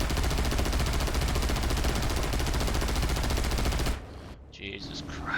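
Rear defensive guns of a Do-217 J-1 heavy fighter in War Thunder fire a loud, continuous rapid burst for about four seconds, then cut off abruptly, leaving quieter engine drone and faint scattered sounds.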